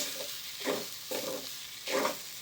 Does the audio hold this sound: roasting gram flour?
yes